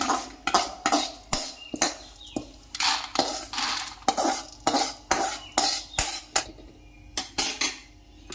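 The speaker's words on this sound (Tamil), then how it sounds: "கடலைப்பருப்பு எடுத்து கொட்டிடுவோம்." Roasted chana dal is tipped and scraped out of a metal pan, with close, rhythmic rattling and spatula scrapes repeating steadily throughout.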